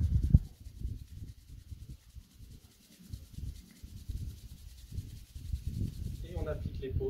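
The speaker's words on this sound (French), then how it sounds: "On les frotte vivement pour créer une bonne sensation de chaleur." Two hands rub vigorously together in a qigong exercise, making soft, close swishing friction in uneven bursts, fairly quiet with slight background noise.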